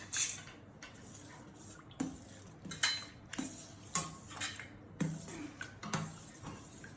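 A spoon stirs milky fruit salad in a bowl, making a series of quiet, irregular clinks and taps against the side, with faint wet squelches between them.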